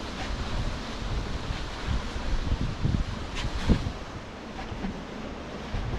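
Wind blowing at the coast during foil downwinding, a constant broadband rush with gusty buffeting on the microphone and faint surf underneath, no talk.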